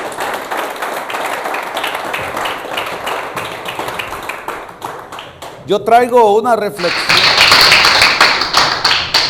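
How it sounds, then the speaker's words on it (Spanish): A church congregation at a men's congress claps in rhythmic applause, steady close hand claps with a voice speaking over them and a brief sung or shouted passage midway, then louder clapping with music. "Denle un aplauso al Señor."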